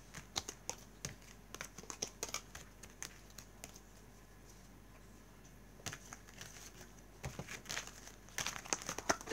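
Tarot cards being handled and drawn from a deck, with soft shuffling flicks and crisp card snaps in scattered irregular taps, close and fairly quiet.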